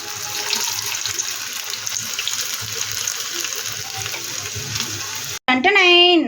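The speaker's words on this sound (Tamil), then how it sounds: "நல்லா ஃப்ரை ஆகட்டும்" Bread potato bites frying in oil make a continuous bubbling sizzle that holds steady for several seconds before cutting off abruptly, followed by a short burst of louder, different sound.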